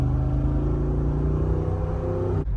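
Jeep Wrangler Rubicon 392 exhaust in its stock form, a deep, steady rumbling drone held close and loud with no talk over it, then cut off abruptly near the end.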